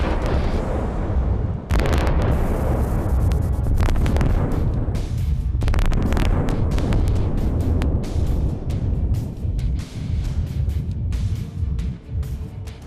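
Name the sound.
atomic bomb explosion sound effect over Nagasaki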